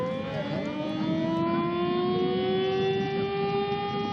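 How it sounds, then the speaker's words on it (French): A loud, sustained warning siren wails steadily before the demolition of the HF6 blast furnace in Seraing, its rising tone holding throughout with a faint rumble underneath. "Une sirène d'avertissement,"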